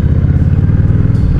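A motorcycle cruising on a road at around highway speed gives a steady, loud engine drone with a heavy low rumble and wind noise throughout.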